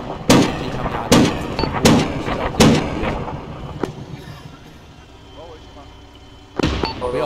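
Enemy machine gun fire in the military shooter ArmA: loud, sharp bursts of shots, spaced roughly evenly through the first few seconds, then a quieter stretch and a final burst, with voices talking over the radio underneath.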